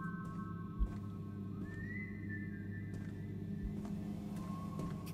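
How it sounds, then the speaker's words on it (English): A character in the Dishwashing Simulator video game whistles a thin, sustained tune over a low steady hum, with a couple of soft thumps in the background. "God, the freaking whistling."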